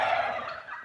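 A rooster crows in a village in Qabala, one loud, close call with a rough, drawn-out tone that trails off over about a second.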